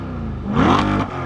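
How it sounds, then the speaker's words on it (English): A Corvette C8 with LTH catalytic converters on its exhaust revs once, the engine note rising to a brief loud peak over a steady idle before dropping back, heard close. "Can you rev it?"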